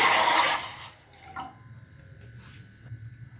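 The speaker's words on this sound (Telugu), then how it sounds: "దానిలో మనం తీసుకున్న వాటర్ వేయాలి." Water is poured into a thick-bottomed pan on a stove while making jaggery syrup, a brief loud splashing gush that cuts off after about a second, followed by faint drips and quiet clinks.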